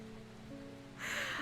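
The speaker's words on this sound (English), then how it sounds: "The gentle rain is falling outside the windows." Gentle rain patters softly outside the windows of a spooky plant shop in the video game Strange Horticulture, a steady quiet hiss that swells brighter partway through, with faint low music tones underneath.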